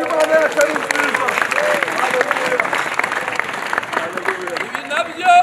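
A church congregation applauds in a loud, dense burst of clapping that carries on without a break, with voices mixed into the crowd.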